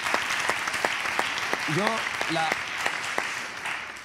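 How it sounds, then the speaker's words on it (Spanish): An audience applauds an illustrator being welcomed as an interview guest, a steady, full wash of clapping throughout, with a couple of brief voices rising over it. "Por favor, un fuerte aplauso para él"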